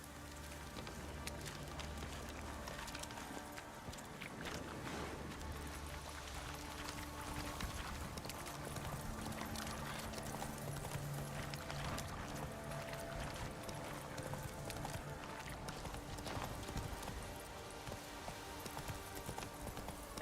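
Horse hooves clip-clop steadily at a slow pace in The Witcher 3, a soft continuous rhythm blended with rain-like patter and low game ambience, with no voices.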